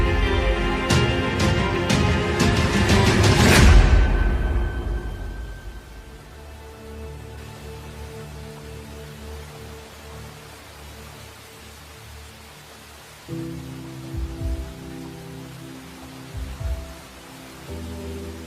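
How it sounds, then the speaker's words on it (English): Steady rain falling in a video game scene: a constant hiss of downpour continues throughout, with a loud, bright crash-like burst early on and a few low thuds later, and no voices. "What the hell was the General thinking, keeping us on guard in the rain like this?"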